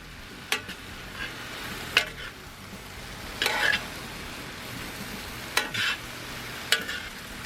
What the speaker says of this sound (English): We're going to get that broccoli incorporated in there. Get that stirred up.